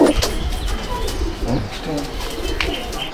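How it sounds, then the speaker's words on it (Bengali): Pigeons of the Golden Ice Tikki bloodline, a breeding pair of Andhra pigeons, coo softly in a home loft, a few low murmuring calls close by over faint background noise and some rustling. "আমি আমার বাড়ির প্রথম এই পায়রা দুটো দেখাই"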